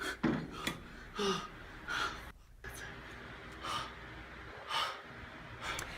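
Heavy, rhythmic gasping breaths follow a hard leg press set in a cycling strength workout, each loud exhale and inhale clearly spaced and close to the listener.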